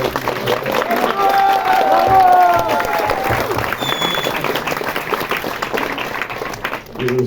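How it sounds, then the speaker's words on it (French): An audience at a concert showcase for an album release applauds and cheers loudly, dense clapping holding steady from start to end, with voices shouting through it. "Super, on peut applaudir très fort Momo au son qui est super bien actif"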